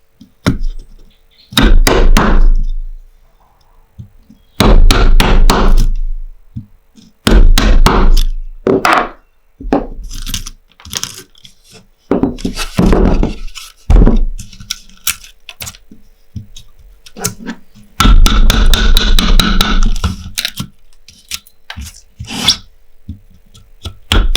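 A carpenter works wood by hand, cutting out left and right circles before clearing the middle, with repeated sharp knocks and chopping blows in uneven bursts, loud and close, separated by short pauses.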